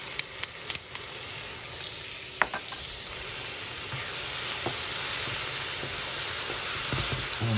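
Sun-dried tomatoes and garlic cook in a pan, producing a dense, steady sizzle that swells slightly louder over time, with a few sharp early clicks of a utensil against the pan.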